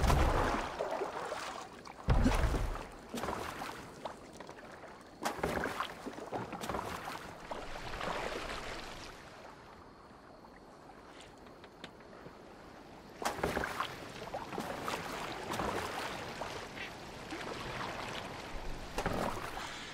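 Boat gliding over water in Assassin's Creed Valhalla, with a continuous wash of splashing and rushing water, gusts of wind and creaking surging in waves, loud at the start and end with a calmer stretch in the middle.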